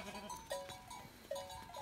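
Newborn lambs and sheep in a flock bleat in short, wavering calls, several overlapping at moderate distance over quiet farmyard background.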